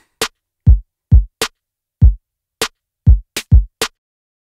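Sparse drum pattern programmed in Logic Pro X: punchy low kicks alternating with sharp clicky hits in a steady, dry groove, nothing else playing.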